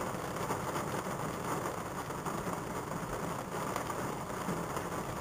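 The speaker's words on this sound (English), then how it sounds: "The rain, the thunder, the lightning" Steady rain falling by a lake during a thunderstorm, a constant broadband hiss with faint low rumbles underneath, even and unbroken, no voices.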